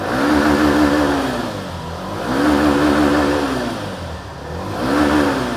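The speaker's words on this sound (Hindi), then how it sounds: "थोड़ा सा इसके थ्रॉटल को और बढ़ाता हूं और एग्जॉस्ट आपको सुनाने का कोशिश करता हूं।" Hero Glamour X 125 motorcycle, 2025 model, revving through its exhaust: three swelling throttle blips rise and fall over a steady idle, close and loud, with no talking.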